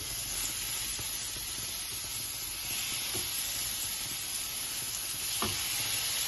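Mackerel pieces frying in oil in a non-stick pan, a continuous close hissing sizzle with light spitting crackles and a few soft knocks as pieces settle, no talking.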